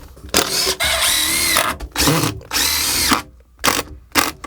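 A power drill drives screws into a window frame during a tiny-house window install: several loud, close whirring bursts of about a second each, separated by short pauses, ending with two quick blips.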